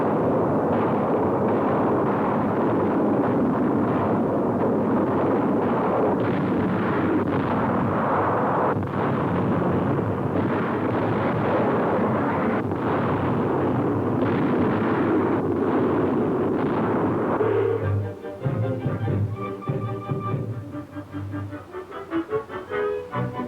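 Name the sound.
Royal Air Force bombing explosions destroying war plants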